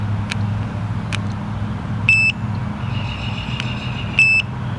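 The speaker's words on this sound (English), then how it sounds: "we're just going to use a little gadget we got here. It's a gas leak detector." Gas leak detector beeping during an RV propane system check, short sharp electronic beeps and clicks at irregular intervals over a low engine-like hum nearby.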